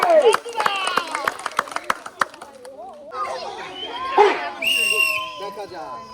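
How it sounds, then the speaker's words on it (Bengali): Scattered clapping at a village fun game for women, with a quick run of claps at first, then excited voices and children's chatter taking over. "বিজয় পুরস্কার সরকার জোরে তালি হবে"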